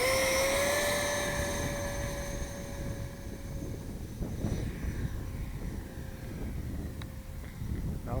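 FreeWing ME262 RC model jet plane, powered by a 6S 8000mAh lipo pack, taking off and flying: a steady high whine of electric ducted fans that holds a rising tone, then a broad, fading rush as it moves away, without talk.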